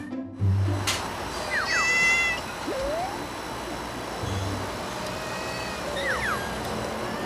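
A mother stray cat living on a rooftop gives several drawn-out meows to call her kittens. The meows are spaced apart and come across moderately loud over steady background noise.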